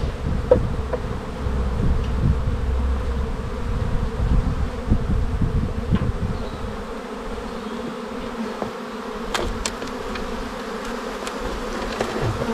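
A honey bee colony being moved from a nucleus box into a hive gives off a dense, steady buzz up close, with rumbling handling noises underneath and a few faint clicks.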